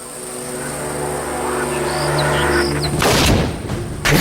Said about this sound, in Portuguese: O que eu vou usar aqui é uma espingarda Remington 1100 de calibre 12 a 30 metros